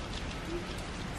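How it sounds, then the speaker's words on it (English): Heavy rain pours down steadily as a dense, even hiss with faint low rumbling beneath, continuous and close. "Pouring rain yet again."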